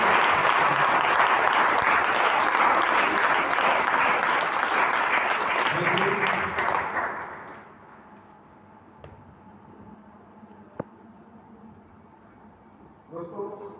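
A seminar audience gives loud, dense applause to welcome first-time attendees, sustained for several seconds before tapering off into a quiet room with scattered claps and faint voices.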